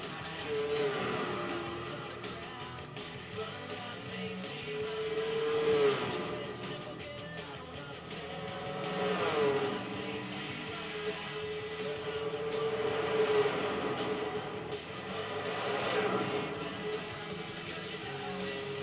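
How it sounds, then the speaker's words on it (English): The 1996 Corvette Grand Sport in the racing game Gran Turismo 4 sings through repeated rising and falling revs, with engine pitch sweeping up and dropping at each gear change, fairly quiet throughout. "I'll shut up and let you listen to the car music now."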